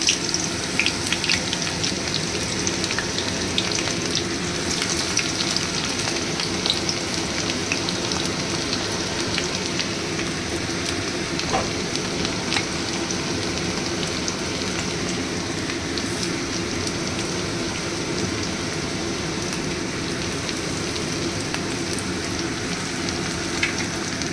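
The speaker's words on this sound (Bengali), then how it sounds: "দিয়ে পেঁয়াজটাকে ভাজবো গোল্ডেন ব্রাউন হওয়া অবধি" Onions frying in hot oil in a pan for chicken ghugni, a steady dense sizzle that holds unbroken and fairly loud throughout, with no voices.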